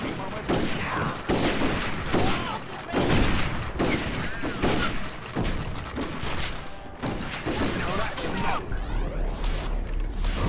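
Gunfire from the video game Red Dead Revolver, a dense, continuous barrage of loud shots and heavy thuds close up, overlapping with hardly a pause, with a voice talking over the fighting.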